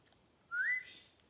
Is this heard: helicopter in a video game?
no